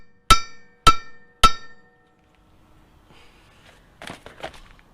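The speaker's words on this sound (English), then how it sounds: "Just tap on them with the hammer and they come out." Three sharp, evenly spaced metallic hammer strikes ring out loud and close as wheel hub studs are tapped out, followed by quiet shuffling and faint breathy noises.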